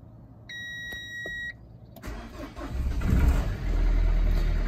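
A car's low-fuel warning beeps once as a steady electronic tone, then the diesel engine cranks and catches, rising into a loud, close rumble that settles into idle.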